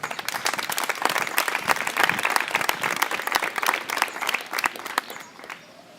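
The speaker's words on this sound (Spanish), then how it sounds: "Un aplauso." Audience at a political talk in Albolote applauds a Podemos speaker with dense, steady clapping throughout, tapering off near the end.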